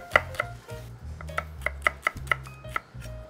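A knife thinly slices onions on a cutting board, about a dozen crisp, evenly spaced chops close by and fairly quiet, with no talk over them.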